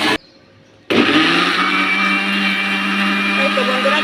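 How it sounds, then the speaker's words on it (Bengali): A countertop blender runs loud and steady after a short pause, whirring through white watermelon with no water added, the motor holding a constant high-pitched roar to the end. "তো চলুন এটা আমি ব্লেন্ডার করে নিই আগে শর্টকাটে করার জন্য।"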